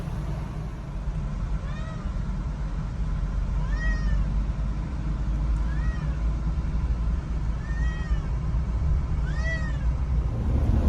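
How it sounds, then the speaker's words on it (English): Several cats meow intermittently inside a moving RV towing a load, about five separate meows spread across the stretch over a steady, loud road and engine rumble. "When we're stopped, they wake up and they start meowing."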